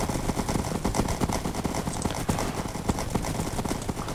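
Horses galloping in a Minecraft horse race, a fast steady patter of hoofbeats that is loud and close, running without pause and with no talk over it.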